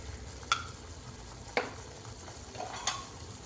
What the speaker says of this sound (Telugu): మంచిగా ఒకసారి నీట్గా కలుపుకోవాలి.